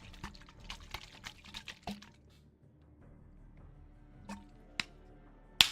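Water is poured in a string of small splashy trickles and drips, close and fairly quiet, with pauses between and one sharper splash near the end.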